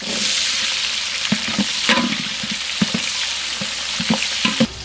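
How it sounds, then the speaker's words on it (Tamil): Mustard seeds, curry leaves and onions frying in hot oil for sambar, a dense continuous sizzle with scattered popping and a few spoon knocks against the pan, close and loud, with no voices. "கடுகு பொறிஞ்சிட்டு கருகப்புள்ள சேர்த்துக்கலாம் இது கூடயே வெங்காயம் சேர்த்துக்கலாம்"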